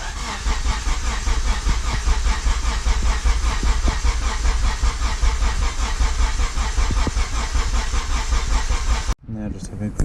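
A Honda Civic EG with a swapped K24 engine cranks continuously in a fast, rhythmic churn, cutting off abruptly near the end; someone speaks over it.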